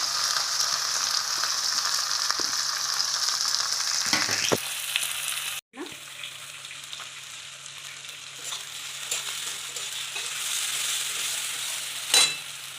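Onion fries with cardamom, cinnamon and bay leaf in hot oil for chicken kosha, a steady close sizzle with stirring scrapes, a brief cut, then the frying hiss continues with a short clatter near the end.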